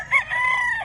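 A four-heads broodstag rooster crows once, close and loud, a short rising call with no voices around it.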